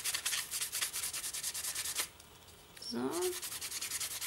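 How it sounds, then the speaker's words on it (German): Sandpaper scrubbing across Worbla Transpa Art thermoplastic in quick rhythmic strokes, close and fairly quiet, pausing briefly while a voice speaks a word before the rubbing resumes. "Das kann man natürlich auch mit gröberem Schleifpapier anfangen und dann einfach mit dem leichteren drüber gehen."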